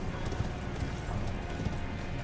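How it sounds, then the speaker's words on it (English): Horse hooves clip-clop steadily in Elden Ring, a continuous muffled trotting rhythm buried in a thick, loud wash of ambient game noise, with no voices. "And hop on the horse."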